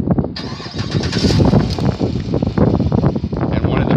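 A 2018 GMC 1500 Denali 4x4 half-ton pickup with a 6.2 liter V8 starts by remote start: a quick crank, then the engine catches and settles into a loud, steady, close rumble.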